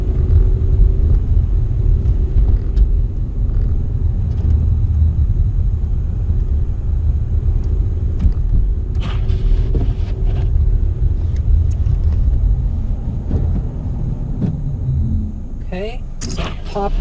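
A manual-transmission car pulling away in snow as the clutch is eased out with light throttle, a steady low engine and road rumble from inside the cabin, with someone talking over it.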